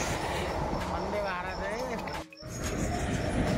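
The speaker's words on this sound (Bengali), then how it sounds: "তোমরা দেখতে পাচ্ছ আমাদের ট্রেন চলে আসছে" A passenger train pulls into a railway station platform in Rajasthan, its low rumble and wheel screech rising steadily around a brief dip, with people talking nearby throughout.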